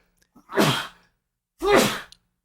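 Two forceful sneezes about a second apart, loud and close, each a sharp burst of breathy noise.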